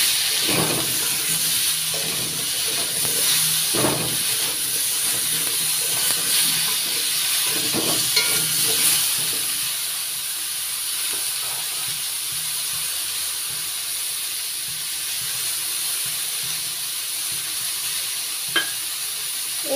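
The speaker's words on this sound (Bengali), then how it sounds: "নাড়াচাড়া করছি।" Radish and potatoes sizzle loudly in a pan while being stirred, with scraping and clattering strokes in the first half over a continuous frying hiss that carries on steadily to the end.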